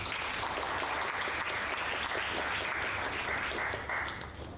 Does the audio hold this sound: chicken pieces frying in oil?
no